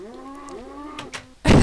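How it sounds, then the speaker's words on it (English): Cow mooing in Minecraft, a single drawn-out low moo with a wavering pitch, close and clear, cut off by a loud noisy burst at the end. "I think one of his cows escaped."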